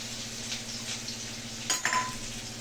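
Chopped onion goes into a hot frying pan for a paneer and potato dish, giving a steady oily sizzle with a brief clatter and a burst of frying partway through.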